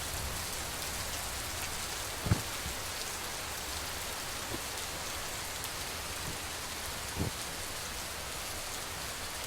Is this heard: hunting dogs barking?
no